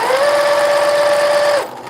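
A Reliable sewing machine runs loudly with a steady whirring hum and high mechanical whine for over a second and a half, then quickly spins down, close and alone.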